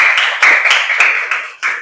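Children in a classroom clap for a group in several uneven bursts, close and fairly loud, with short gaps between rounds of clapping.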